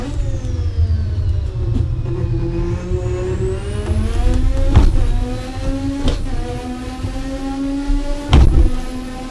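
Race car engine in Assetto Corsa revving hard and steadily under load, its harmonic whine climbing and falling through gear changes, with sharp loud bursts near the middle and end.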